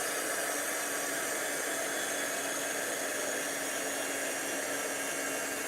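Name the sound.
heat tool heating embossing powder on silver leaves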